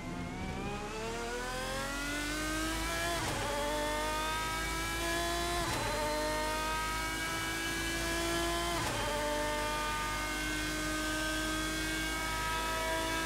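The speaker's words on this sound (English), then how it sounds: "Man, this engine screams." A GT1 race car engine in the sim racing game Assetto Corsa screams at high pitch, repeatedly climbing through the revs and dropping sharply at each gear shift, loud and continuous with no voices.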